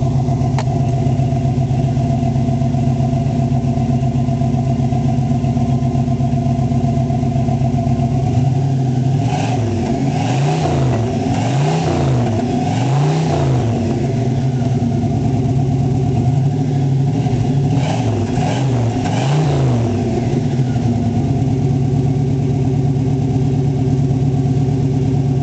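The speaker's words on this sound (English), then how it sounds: "Just a nice soft rumble from the Flowmasters." A 1979 Pontiac Trans Am Special Edition V8 with Flowmaster dual exhaust idles with a steady low rumble. Two rising and falling rev blips follow, then a return to idle, with no talk.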